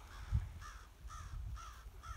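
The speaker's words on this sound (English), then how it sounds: "You have some crows cawing in the background." Crows cawing in a cold, windy winter shoreline setting, a series of repeated harsh caws at a steady rhythm, moderately distant over low wind rumble, with no talk.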